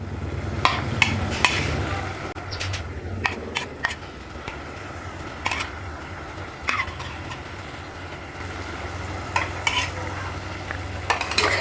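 Rice and fried potatoes stirred together in a cooking pot, a spoon scraping and knocking in irregular strokes over a constant low sizzle and fan hum, close by, no voices.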